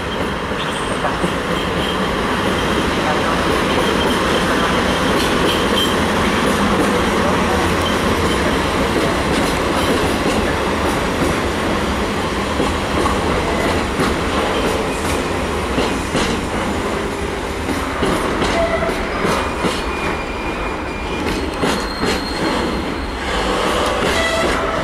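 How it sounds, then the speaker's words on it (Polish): A passenger train runs through Wrocław Nowy Dwór station, loud and close, with a continuous rumble, rhythmic wheel clatter over the rail joints and occasional high squeals throughout. "Pociąg osobowy ze stacji Złoty na stację Wrocław. Przez stację."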